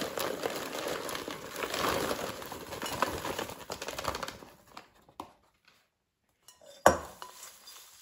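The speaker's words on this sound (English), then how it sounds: "And now I will open the bag and dump it in a bowl." A microwave popcorn bag is torn open and the popped kernels tumble into a bowl, a dense crinkling, rustling clatter for about five seconds that thins out into a few scattered taps and one sharp knock.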